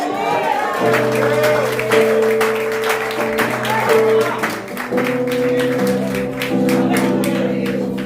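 A church congregation applauds during worship at a New Year service, a dense steady clapping that runs throughout alongside sustained organ or keyboard chords and voices.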